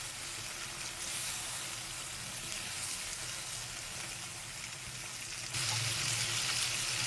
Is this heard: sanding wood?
no